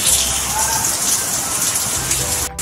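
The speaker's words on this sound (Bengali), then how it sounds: "বাইরে দেখো পুরো ধোয়া ওঠা অবস্থায় বৃষ্টি, এত জোরে বৃষ্টি হচ্ছে" Heavy rain pours down outside, a loud, dense and steady hiss of rainfall close by that holds throughout, with no clear talk over it.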